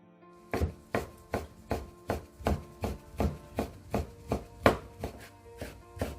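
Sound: knife slicing jujubes into thin strips

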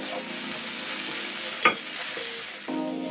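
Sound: moringa leaves being stirred and sautéed in a pan

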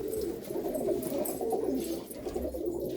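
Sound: Malwai pigeons cooing

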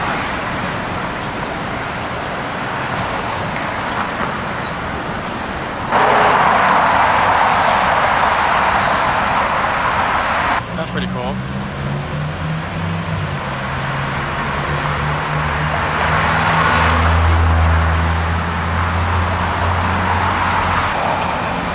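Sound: Lamborghini Huracan supercar driving by in New York

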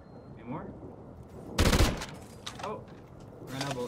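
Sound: gunfire in a video game

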